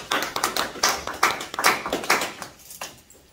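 A small audience at a lecture claps in welcome for a speaker, a brief scattered burst of hand claps that thins out and fades to quiet within a few seconds.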